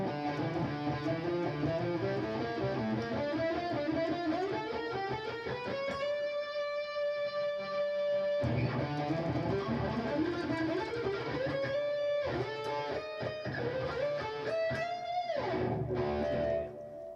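A distorted electric guitar plays a fast, continuous economy-picked riff of quickly picked single notes, running up and down steadily.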